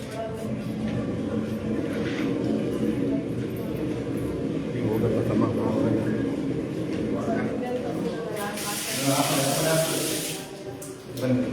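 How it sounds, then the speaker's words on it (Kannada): Water gushes from opened taps in a rundown government hospital bathroom, a steady broad rush over several seconds with a louder burst near the end, people talking over it. "ಟ್ಯಾಪ್ಸ್ ಎಲ್ಲ ಓಪನ್ ಮಾಡೋದು"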